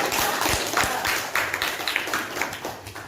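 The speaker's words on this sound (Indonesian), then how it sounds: "tepuk tangan dulu" Students in an Indonesian classroom clap together during a lesson on speeches. The claps come close and fairly loud in short, uneven bursts over about three seconds.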